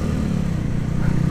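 A 2010 Minerva R150 VX motorcycle, due for a service, with its engine revved gently: a steady, loud, close low engine drone with a faint pulsing throb and no voices.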